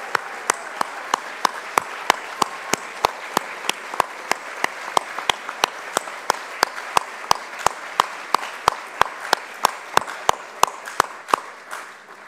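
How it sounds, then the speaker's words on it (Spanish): Applause fills a hall at the closing ceremony of a Latin American programming championship, a sustained wash of crowd clapping punctuated by regular sharp, loud, evenly spaced claps or beats running through the whole stretch. "Un gran aplauso para ellos, nos vamos muy contentos."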